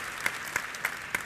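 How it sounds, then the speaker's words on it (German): An audience at a talk in Leipzig applauds in honor of Frank Schäffler. A brief, moderately loud patter of many hands comes through, with a few distinct claps popping out at an even pace. "an der Stelle ist ein Applaus für Frank Schäffler übrigens angebracht"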